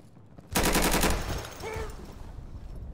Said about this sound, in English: Then we had a bit of gunfire through the hallway